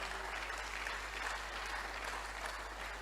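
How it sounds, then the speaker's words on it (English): Steady audience applause at an empowerment and transformation summit, a dense continuous patter of many hands filling the whole stretch at moderate level, with a low hum underneath and no talk. "Please celebrate them, clap for them well."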